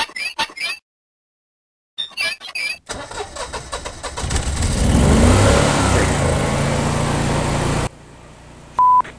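A Generac generator engine cranks and catches, then settles into a loud steady running roar for several seconds before cutting out, with a brief electronic tone afterward.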